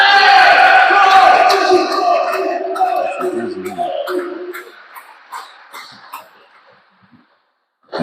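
Home crowd at a table tennis club league match in Brighton, a loud burst of cheering and shouting that fades over several seconds, leaving scattered claps and ball taps before silence.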